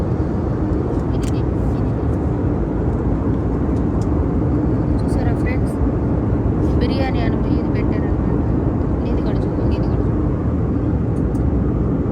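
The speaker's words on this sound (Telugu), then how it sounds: "ఫ్లైట్ అయితే బయలుదేరుతుంది" A loud, constant engine roar fills an airplane cabin during takeoff, steady throughout, with faint chirps and muffled voices in the background.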